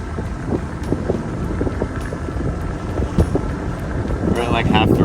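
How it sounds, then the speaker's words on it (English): A Nauticat 43 sailboat motors along at half throttle near La Paz, its engine a steady low drone under heavy wind buffeting and rushing water for several seconds. "We're at like half throttle."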